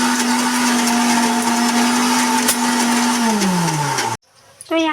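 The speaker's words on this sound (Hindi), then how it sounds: "तो यहाँ हमारा मसाला बिल्कुल पीस कर रेडी हो गया है।" A mixer grinder whirs loud and steady as it grinds masala in its jar, then winds down in pitch and cuts off, followed by a moment of quiet and a short spoken voice.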